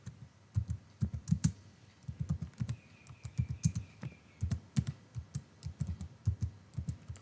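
Fingers type on a computer keyboard, a steady stream of soft close-up key clicks in irregular bursts with short pauses, alone without talk.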